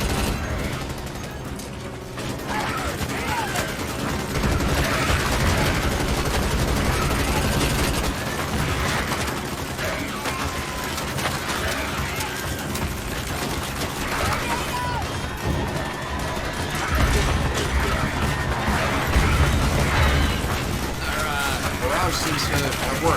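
Sustained gunfire barrage in the Starship Troopers: Extermination video game, dense rattling shots and crashing impacts running the whole time, mixed with voices talking over the battle.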